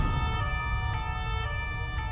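Police car siren wailing steadily as officers arrive in a small French town, a sustained tonal wail over constant low traffic rumble, loud and continuous throughout with no talk.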